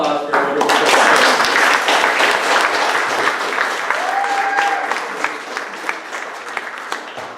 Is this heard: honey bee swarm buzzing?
no